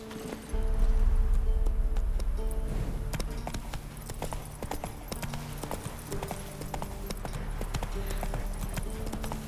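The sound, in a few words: horse Roach galloping, hooves clip-clopping, in video game The Witcher 3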